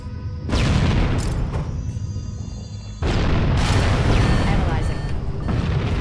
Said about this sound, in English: Maybe I just need the roly grenades.